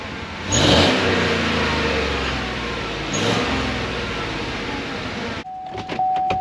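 A Chevy Tahoe 5.3 V8 with a Corsa exhaust starts up and revs, one sharp rev near the start and a second swell a few seconds later over a steady mid idle, close and loud, then cutting off.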